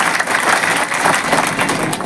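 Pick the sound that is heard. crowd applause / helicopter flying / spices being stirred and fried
crowd applause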